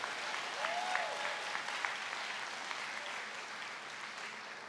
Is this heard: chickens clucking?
no